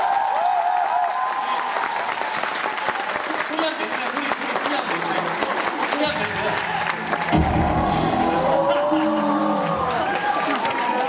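Audience applause for the orchestra at a FAME musical curtain call, dense sustained clapping from a large crowd with cheers, a voice speaking over it partway through.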